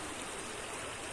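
Water streams steadily along an open drainage channel, a constant broadband rushing that stays even and close throughout, with no voices.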